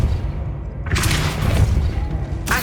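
The Depulso spell blast from the video game Hogwarts Legacy hits as a heavy, booming impact with a rumbling low end. A sharp bright burst erupts about a second in and sustains, and a second burst follows near the end.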